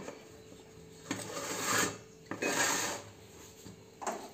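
A metal three-plate idli cooker being set up in a home kitchen, giving several separate scraping, knocking metal clatters at moderate loudness, with no talking.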